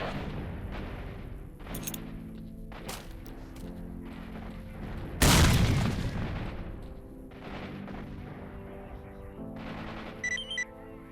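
A grenade blows up with a single loud, booming blast in STALKER: Shadow of Chernobyl. It rises abruptly from a busy in-game background of clanks and ambient noise, then decays over a couple of seconds.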